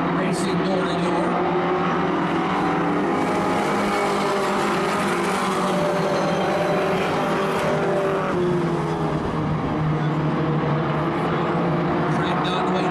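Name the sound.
race cars racing door to door on track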